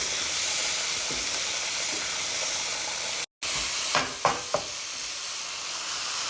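Vegetables and ground meat sizzle steadily in a hot pan for spaghetti, a constant frying hiss with a few short clinks and scrapes of stirring toward the end.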